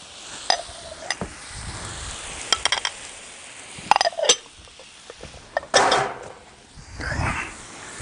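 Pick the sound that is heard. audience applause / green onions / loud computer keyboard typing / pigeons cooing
green onions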